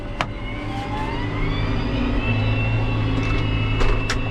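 A John Deere 6140M tractor from the 6M series drives steadily with a low, even engine drone and faint whining tones, close and continuous throughout.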